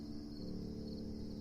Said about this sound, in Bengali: চারিদিকে শীতল বাতাস বইছে আর ঝিঝি পোকার ডাক ভেসে আসছে।